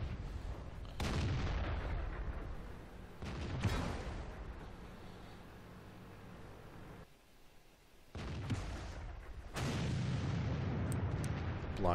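FV304 self-propelled artillery firing in World of Tanks, with several heavy booming shots and rumbling blasts spaced apart, loud and close, separated by quieter engine and ambient game noise.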